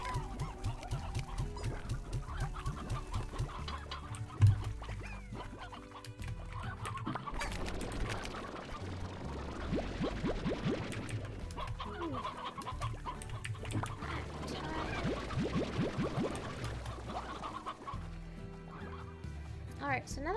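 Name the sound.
chickens clucking in video game Slime Rancher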